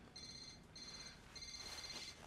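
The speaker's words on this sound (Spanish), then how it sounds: "Está sonando un celular, no es el mío." A mobile phone rings in repeated electronic trill bursts, three pulses separated by short gaps, faint and somewhat distant over a quiet room background with no talking.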